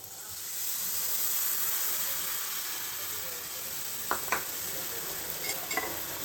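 Gram flour mixed with water is stirred into a simmering onion curry, giving a steady soft hiss of cooking with a few brief utensil scrapes toward the end.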